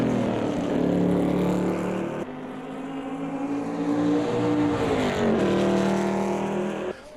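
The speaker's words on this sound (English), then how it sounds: "this is the dedicated race car in the GT1 class" The Saleen S7R GT1 race car's engine in the racing game Automobilista 2 roars loudly and steadily, its pitch rising and falling through gear changes over several seconds with no talk.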